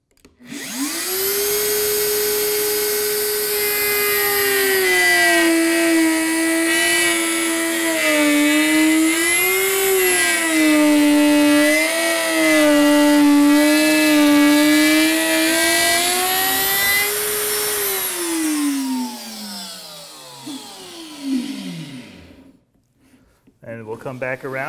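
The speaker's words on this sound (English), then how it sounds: "We are routing MDF." A router cuts through MDF with a loud, sustained whine whose pitch wavers as it moves through the board, then spins down and falls silent near the end.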